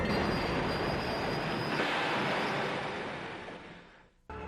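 A train roars past at close range with a loud, steady rumble and a high squeal from the wheels, easing off toward the end before an abrupt cut.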